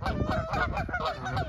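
Canada geese honking loudly and repeatedly, a steady overlapping chorus of nasal calls close by.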